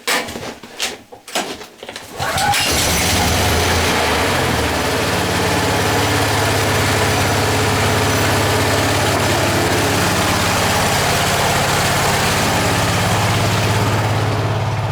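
A few short pulls and clunks, then a small engine on full choke fires up and settles into a steady, loud idle that drones on without change.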